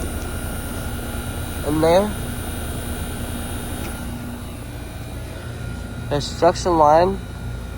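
A 2014 Trane XR13 2-ton heat pump runs with a steady, even mechanical hum and whir, while someone talks over it in two short bursts.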